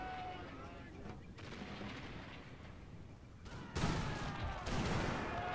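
Distant gunfire from a battle in a Mahdist Rebellion strategy game, a faint rumbling crackle of volleys and artillery that swells louder toward the end.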